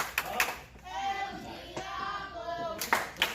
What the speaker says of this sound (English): Now the crowd trying to rally behind El Diablo. You can hear them starting to build up.